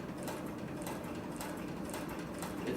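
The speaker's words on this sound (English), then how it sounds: "if you listen to the machine, if you can hear the audio in this video right now" Cowboy CB341 walking foot cylinder arm sewing machine stitching upholstery leather, a quiet steady mechanical hum with soft rhythmic clicking, faint and continuous throughout.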